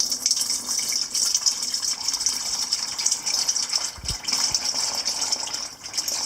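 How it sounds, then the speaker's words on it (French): Liquid honey poured slowly into a metal sieve to strain out impurities, giving a soft, steady trickling wash close by, with a faint knock midway. "doucement, vous versez le liquide dans le tamis métallique"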